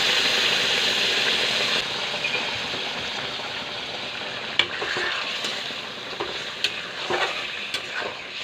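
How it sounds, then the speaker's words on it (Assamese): Pork pieces, potatoes and spices frying in a pan while being stirred, a steady sizzle under scraping stirs, then quieter sizzling with sharp spoon knocks against the pan. "আৰু এতিয়া গোটেই মছলাখিনি মাংস আৰু আলু মিক্স হোৱাকৈ মই ভালদৰে লৰাই থাকিম।"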